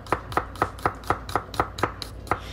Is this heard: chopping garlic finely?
yes